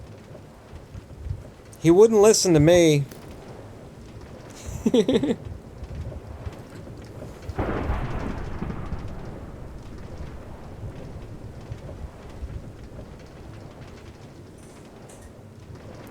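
Thunder rumbles during a thunderstorm with lightning in Minecraft, a broad roll building then fading over several seconds amid steady background noise, with brief speech earlier.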